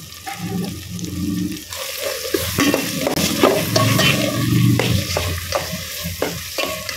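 Onions, tomato and ginger garlic paste sizzle loudly in hot oil for an egg curry, with a steady close frying hiss broken by repeated scraping stirs of a spoon against the pan.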